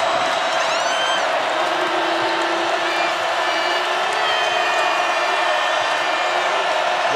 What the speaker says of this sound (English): now the crowd is really trying to cheer their favorite team on